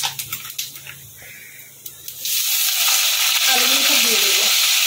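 Cumin seeds and dried red chillies hit hot mustard oil for aloo posto: a few sharp taps and stirs, then a sudden loud, steady sizzle of frying spices that continues to the end.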